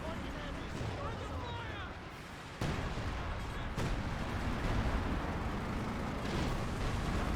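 Artillery barrages pound Panzer grenadiers in a Company of Heroes 2 match, with dense rumbling booms and sharp blasts rolling over continuous battlefield noise while a voice commentates.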